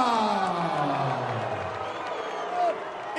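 Boxing arena crowd before the Holyfield versus Botha fight, a broad wash of cheering and whoops that swells and fades behind an announcer's voice, with a brief louder burst near the end.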